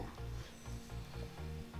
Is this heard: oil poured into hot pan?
yes